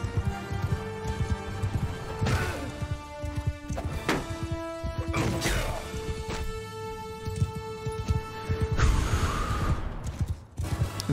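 Horses gallop in the game Bannerlord with rhythmic clip-clop hoofbeats under loud battle noise, tonal music and occasional clashes.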